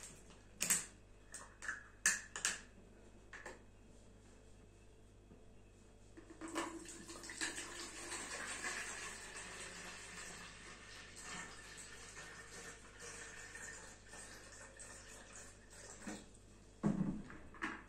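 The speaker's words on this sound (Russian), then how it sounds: "и отливаем отсюда 1 литр" Water pours out of a 5-litre plastic bottle as a litre is poured off, a steady splashing gush running for about ten seconds in the middle, with a few clicks and handling knocks before and after.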